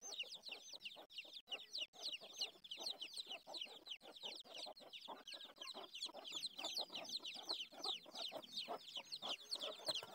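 Brooding hen on her nest inside a dim farm shed, clucking in a dense series of short, quiet calls.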